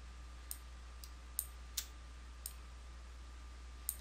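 Computer mouse clicking during a software tutorial, about seven sharp, close clicks spaced irregularly over a quiet hum, with no speech.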